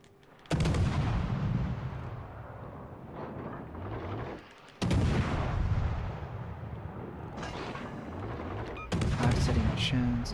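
Naval guns fire in World of Warships at the end of a battle, booming salvos landing in three loud bursts about four seconds apart, each leaving a rumbling tail, with no talk over them.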